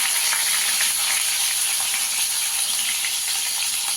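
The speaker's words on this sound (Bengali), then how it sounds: "গ্যাসের আঁচটাকে একদম কম করে ভেজে নেব।" Stuffed bitter gourd frying in hot oil over a very low gas flame makes a soft, even hiss and sizzle that holds steady through the short stretch.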